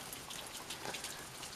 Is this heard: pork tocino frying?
no